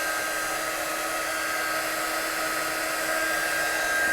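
Hair dryer drying a watercolour-painted stamped Christmas card, a steady high whirring blow held evenly and close throughout, alone with no voices.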